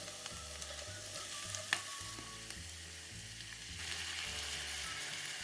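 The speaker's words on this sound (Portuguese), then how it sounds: "quando as cebolas estiverem bem refogadas, com um toque de uma aparência douradinha" Sliced onions sautéing in a pan until lightly golden, a soft steady sizzle with faint stirring clicks, no talking.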